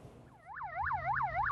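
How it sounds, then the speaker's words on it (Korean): A coast guard high-speed patrol boat wails its siren at night while chasing a Chinese fishing boat, a rising and falling electronic whoop cycling quickly several times over a low engine hum. "해경 고속정이 사이렌을 울리며 중국 어선의 뒤를 쫓습니다."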